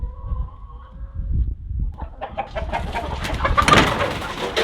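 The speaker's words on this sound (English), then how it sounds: "Rabbits above, chickens below." Chickens in a barn with rabbits housed above them cluck and squawk, starting as low murmuring and rising into a busy, close chorus of overlapping calls.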